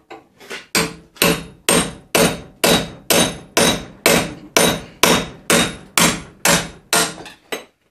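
A steel hammer strikes a blunt flat chisel about a dozen times in a steady rhythm, driving out the front radius arm bushes on a 1993 Land Rover Defender; each blow is a loud, close, ringing impact.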